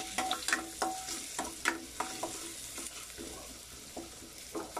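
Garlic and finely chopped onion sautéing in a pan, with a steady sizzle and repeated spatula scrapes and taps in an uneven rhythm, close and clear, with no voices.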